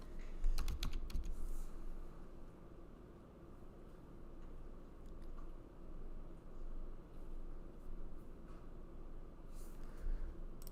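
Rapid clattering keystrokes on a computer keyboard run throughout, close and continuous with bursts of harder taps near the start and end, over a steady background hum.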